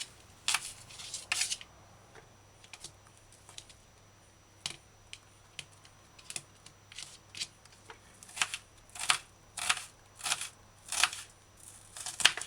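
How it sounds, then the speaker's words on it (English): Knife slicing onions on a cutting board while cooking a vegan bok choy stew, a run of sharp, crisp chopping taps that start sparse and quiet, then come faster and louder in clustered bursts, close up with no talk. "Now, slice onions, or you can dice it as well."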